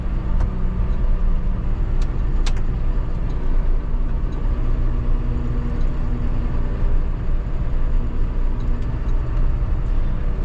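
A steady, loud road rumble of a passing car mixes with heavy continuous engine and machine noise near a John Deere 6930 tractor spreading liquid nitrogen fertiliser on a wheat field in rain, without a clear rise or fall.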